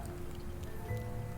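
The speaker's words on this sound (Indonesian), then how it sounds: "Karena sekarang kan hujan tuh udah semakin deras ya di sini ya." Heavy rain falls steadily and close by in a dense, continuous wash of patter and drips, with no pauses and no voices.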